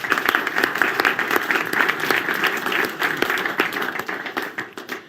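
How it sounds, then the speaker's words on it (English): A large audience at an alpine ski racing event gives loud, sustained applause for skier Mikaela Shiffrin, with dense, even clapping and no talk. "Please give a round of applause for Mikaela Shiffrin."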